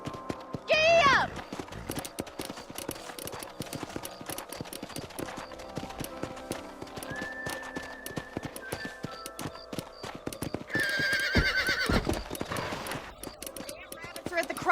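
Horse galloping with rhythmic clip-clop hooves and a loud neigh near the start and another later in the Western video game Red Dead Redemption, with game music and a voice speaking over the riding.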